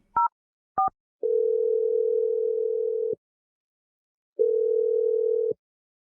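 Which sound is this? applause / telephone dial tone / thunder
telephone dial tone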